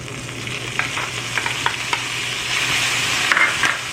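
Asafoetida, green chilies and curry leaves hit hot oil for upma, giving a close, loud sizzle with quick crackling spits and a few stirring scrapes.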